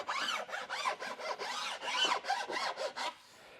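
Bastard file rasping along edge banding trim on a woodworking project, a rapid series of about a dozen close, rhythmic scraping strokes that stop abruptly near the end.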